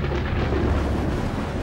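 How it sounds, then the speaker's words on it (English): Thunder from a lightning storm over Yosemite's Half Dome rolls in as a loud, deep, continuous rumble that fills the moment, heavy and close with no break. "Then the storm slams into Half Dome."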